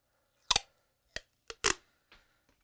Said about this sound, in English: It's hard to cut these with this value scissors.